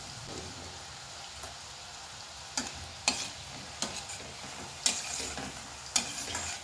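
Poha potato fingers deep-frying in hot oil, giving a steady crackling sizzle with occasional sharper pops and spatters, close and fairly quiet, with no voices.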